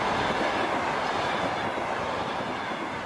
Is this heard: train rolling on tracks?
yes